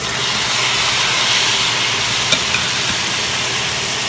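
Cabbage and glass noodles sizzle and hiss steadily in a hot pan, a dense, even frying roar with a couple of faint clicks, close and continuous with no voices.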